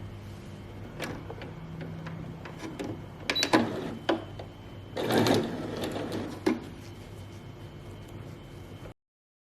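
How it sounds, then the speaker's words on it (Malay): A sewing machine stitches a kimono cardigan in short bursts of whirring with brief pauses between runs, fairly close and moderately loud, with no talking. "Lepas tu kita jahit kat sini."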